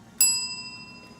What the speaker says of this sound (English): She got that bell.